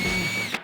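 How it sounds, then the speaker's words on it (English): A power drill drives screws into wood pieces during a woodworking build, a steady close-up motor whine lasting under a second before cutting off abruptly. "We're gonna screw this down to the piece."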